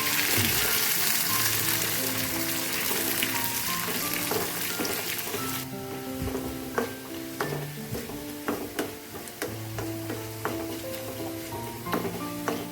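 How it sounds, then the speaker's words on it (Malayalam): Dried red chillies and curry leaves hitting hot oil in a pan give a loud, bright sizzle that settles into crackling pops and a few clinks of a spoon, with no talking. "അതിനകത്തേക്ക് കുറച്ച് രണ്ട് മൂന്ന് ഉണക്കമുളകും മൂന്ന് കരുവേപ്പില കൂടെ ഇട്ട് കൊടുക്കും"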